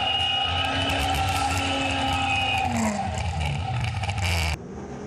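Onboard a front-wheel-drive drag racing car making a full run, engine droning loud and steady with rising harmonics through the gears, then cutting off abruptly near the end.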